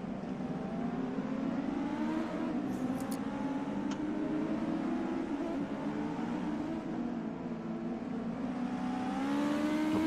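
A retro Ford 34 race car engine revs and whines steadily for several seconds on the Mas du Clos circuit in France, over a constant roar, with a pitch that rises and falls slightly; no talking.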